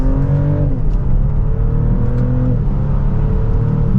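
A 2024 BMW X5 xDrive50e hybrid with its 3-liter inline six accelerates hard in sport mode from second gear, a loud, close, steady engine drone rising in pitch with a brief dip at a gear change.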